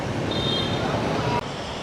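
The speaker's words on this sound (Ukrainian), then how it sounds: "на набережній такий вітер, і подивіться, яка здоровенна хвиля" Strong wind roars and buffets the microphone on a seaside embankment while big waves surge and wash nearby, forming one loud, continuous rush.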